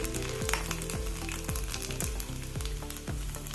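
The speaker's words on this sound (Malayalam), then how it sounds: "1 ടേബിൾ സ്പൂൺ നെയ്യ് ഒഴിച്ച് 1 ടേബിൾ സ്പൂൺ തേങ്ങാക്കൊത്തും ചേർത്ത് ഒന്ന് മൂത്ത് വരുമ്പോൾ" Coconut pieces sizzling in ghee in a pan, a steady close crackle and hiss with repeated soft scraping stirs every half second or so, no voices.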